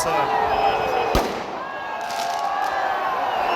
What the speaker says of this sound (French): les feux d'artifice juste au-dessus de la foule